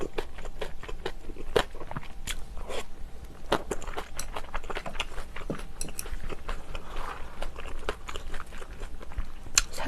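Shrimp crackers crunched and chewed close to the mic during a seafood mukbang, a steady run of sharp bites and crisp crunches with no talking.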